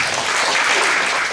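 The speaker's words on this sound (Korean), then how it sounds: "박수로 맞이해 주세요" An audience at a poetry society's book launch in Atlanta claps steadily in a dense burst of applause, moderately loud and without pause.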